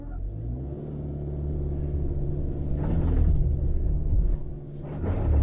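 A Subaru Forester's engine rumbles steadily as the car builds speed for a run-up in tough conditions, swelling louder around the middle and again at the end, with no talk over it.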